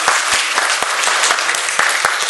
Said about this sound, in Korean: 우리 하나님께 영광의 박수로.